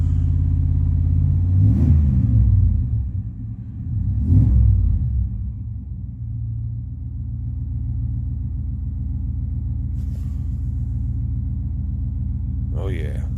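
A Chevy truck's TBI engine with newly swapped 350 injectors runs at a steady idle, a low continuous rumble with a couple of brief revs early on, while people talk briefly.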